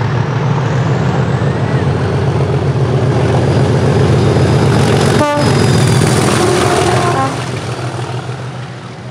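A train rumbles past close by with a loud, steady roar and rattling wagons, a brief horn sounding midway before the noise eases slightly near the end.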